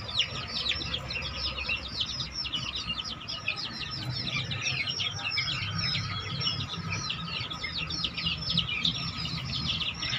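A flock of chickens clucks and chirps continuously in a poultry yard, many birds overlapping in a steady, busy chatter with a low rumble underneath and no voices.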